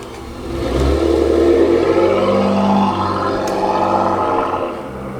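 A car engine revs up and holds a steady mid-pitched drone, swelling and easing slightly, close by with no talking.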